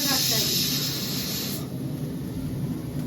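Onions frying in hot oil for mutton biryani, a steady loud sizzle and hiss that eases slightly partway through, close and continuous with no talking.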